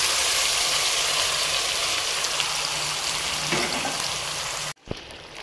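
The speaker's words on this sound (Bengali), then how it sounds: "এই সময় আমি ম্যারিনেট করা মাটনটা দিয়ে দেব।" Marinated mutton for biryani frying in a pan over high flame gives a loud, continuous broadband sizzle close up, which cuts off abruptly near the end.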